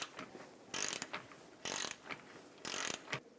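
Ratcheting clicks from a torque wrench on the lower ball joint nut of a 2008-2012 Honda Accord front lower control arm, in three short bursts of rapid clicks with pauses between, close and alone.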